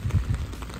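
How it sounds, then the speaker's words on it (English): Rain falls on a golf course during a match-play round, a dense, steady hiss of drops with no voices. "This generally looks like the camera's picking up the rain"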